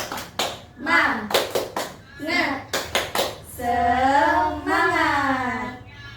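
Several sharp, rhythmic claps in quick bursts from a class, interleaved with a voice chanting along, ending in a drawn-out sung phrase.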